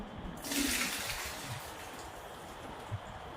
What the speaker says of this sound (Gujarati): હવે છે ને હું પેલી આ જાળીમાં નીતારી લઉં